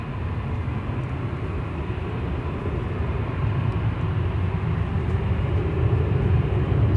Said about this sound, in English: Behind this will be Sun Express coming in from Dalaman.